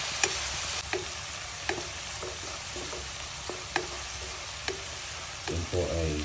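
Garlic with red and white onions frying in oil for scrambled salted egg, a constant soft sizzle with occasional spoon taps and stirring scrapes, close by, with a brief murmur near the end.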